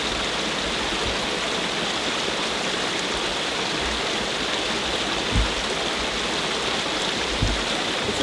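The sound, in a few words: Cranberry Creek stream flowing over rocks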